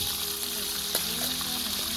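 Eel pieces fry in a hot pan with a steady, close sizzle and crackle, a faint scrape of stirring in the middle.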